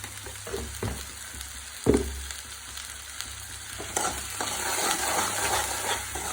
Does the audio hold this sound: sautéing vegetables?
yes